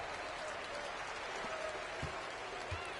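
A home crowd in the NBA 2K25 basketball video game gives steady, dense applause and cheering as one continuous roar, with a few louder low thumps along the way.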